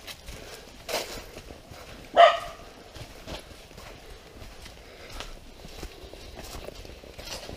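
Small dog approaching along a rural roadside, with light pattering footsteps and a single sharp bark, fairly close amid faint outdoor noise.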